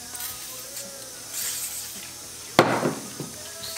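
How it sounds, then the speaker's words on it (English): WD-40 sprayed onto a Ford 302 engine crankshaft, with faint hissy bursts early on, then a sharp hit followed by a stronger spray hiss, over quiet workshop background. "So I'm going to soak it with some of my WD-40"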